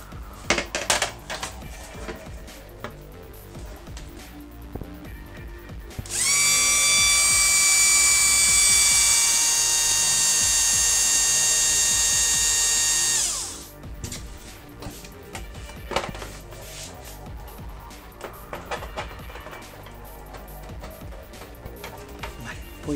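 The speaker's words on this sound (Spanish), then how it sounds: "yo voy a coger un taladro y vamos a hacerlo de esta forma" A power drill fitted with a hole saw bites into a PlayStation 3 Slim plastic case in one loud, steady whine lasting several seconds, with quieter handling noises before and after.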